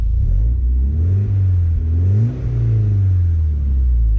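Car engine revving during a heel-toe downshift, a loud, close engine note that dips and then swells with sweeping pitch changes as revs climb and fall, with no talk over it.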